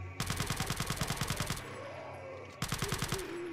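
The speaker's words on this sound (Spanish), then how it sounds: "Vamos a darle tres tiros a cada uno." Gunfire in Resident Evil 4 with the Life In Hell mod comes in two loud, close bursts of rapid, evenly spaced shots, separated by about a second of quieter ambience.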